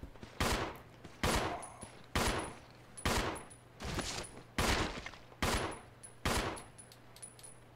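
Bursts of gunfire ring out in Resident Evil 0 HD Remaster, about seven sharp, evenly spaced shots or short volleys over a low background hum, each loud and close with a brief ringing tail.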